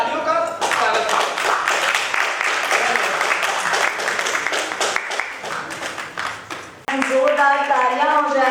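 Audience applause at an awards ceremony fills the room, a dense sustained wash of clapping that carries on for several seconds, then fades out as a person starts talking over it.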